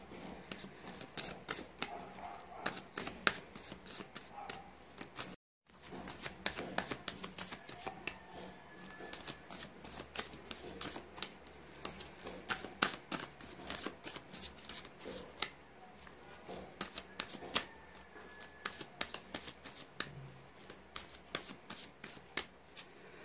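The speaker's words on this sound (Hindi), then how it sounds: "मैंने कर लिए कार्ड्स की शफलिंग" Tarot cards shuffled by hand for a reading, a steady run of crisp riffling and flicking clicks with one short pause, close and alone without any voice.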